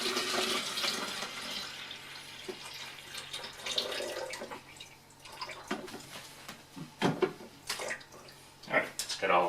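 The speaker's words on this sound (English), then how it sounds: "Got 8 cups of water filled into the carafe. Gonna go ahead and pour that into the area." Water poured from a carafe into the reservoir of a Cuisinart PerfecTemp 14-cup programmable coffeemaker, starting as a close splashing stream that thins to intermittent gurgles and drips near the end.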